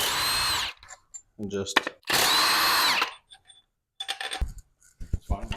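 A power tool loosens bolts to remove cylinder heads from a Ford 390 FE engine in a station wagon rebuild, several loud whirring bursts separated by metallic clinks, with someone speaking briefly between them.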